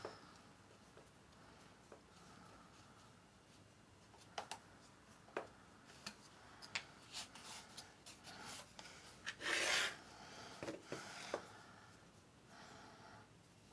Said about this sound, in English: I can just use my screwdriver to go tighten it all together